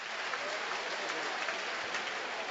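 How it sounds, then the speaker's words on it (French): Fans in the stands at a Belgian Jupiler Pro League football match, Club Brugge against Dender, applaud after a shot goes just over the bar. The clapping is steady and fairly faint, a broad, even wash of crowd noise. "Et tout le monde applaudit"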